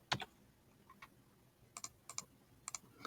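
Soft, quick clicks of typing on a computer keyboard, coming in short clusters of keystrokes with pauses between them, quiet and close with no talking.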